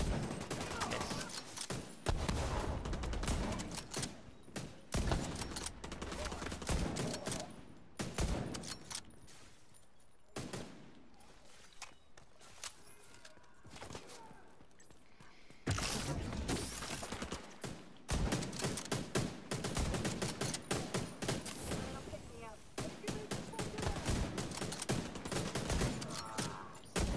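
Rapid gunfire bursts and fusillades from The Division 2 video game during co-op play, dense and loud with short pauses, mixed with players talking.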